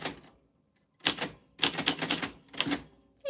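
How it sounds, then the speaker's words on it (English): A typewriter typing out names in quick bursts of sharp key strikes separated by pauses, close and clear, with a short ring of its bell at the very end. "And you got a typewriter bell."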